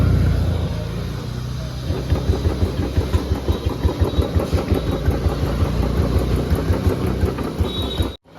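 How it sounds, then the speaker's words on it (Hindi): A Royal Enfield Bullet 350 motorcycle engine idles while warming up after an oil treatment is added, a loud, steady thumping beat of regular pulses close by, ending with a sudden cut. "अभी इस इंजन को थोड़ा वार्म अप होने देते हैं"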